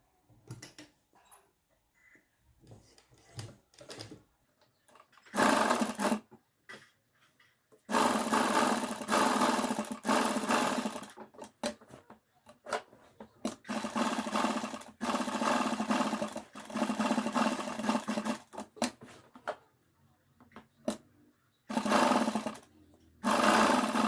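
Sewing machine stitching a round neck on a garment, with several loud bursts of rapid mechanical rattling separated by quiet pauses, close to the microphone, with no talk over it.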